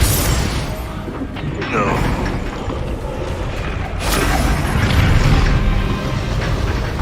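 Spell blasts in the Hogwarts Legacy video game, a run of booming magical impacts and crashing bursts layered over a continuous battle soundtrack.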